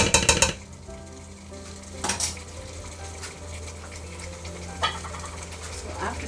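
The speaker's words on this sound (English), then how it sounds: "So make sure that you give it a good mix and cover it and cook it." Chicken biryani masala with tomatoes, coriander, mint and ginger garlic paste is stirred in a pot, with a loud clatter of the utensil at the start, then a steady sizzle and occasional scrapes against the metal.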